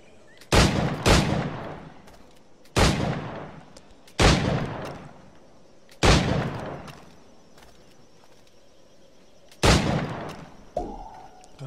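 Heavy gunshots in a timed target challenge in Assassin's Creed IV: Black Flag, six loud, separate booming blasts spaced a second or more apart, each with a long decaying echo, over quiet ambience.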